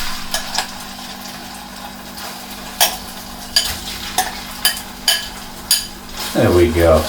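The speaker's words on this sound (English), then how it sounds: "Let's get our beef in there." Beef sizzling steadily in a warm pan for Chinese beef satay noodles, with a utensil scraping and clinking against the pan in regular strokes, then a louder burst of frying near the end; a voice talks briefly.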